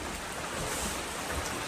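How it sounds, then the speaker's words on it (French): Steady rain falls outdoors on a long-distance hike along the AT, a dense, even hiss with soft spattering drops, close and continuous, with no voices. "On va partir sous la pluie."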